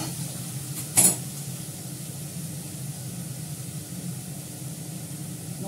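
Onions fry in a pan with bay leaves under a soft, steady sizzle, broken once near the start by a sharp utensil clink against the pan.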